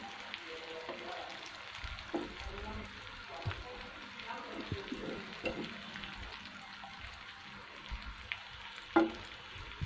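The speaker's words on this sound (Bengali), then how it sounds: "তো এই যে আমার মাছ ভাজা শেষ।" Fish fries in a pan with a faint, continuous sizzle and light crackle throughout, along with occasional small clinks of cookware.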